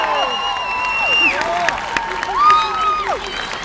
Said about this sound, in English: A big round of applause for Senator Claire McCaskill